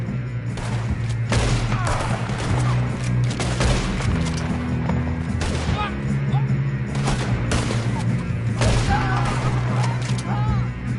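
Repeated gunfire in the Western video game Red Dead Redemption: loud, sharp shots and booming blasts spaced irregularly across the scene, over a low rumbling background with scattered voices.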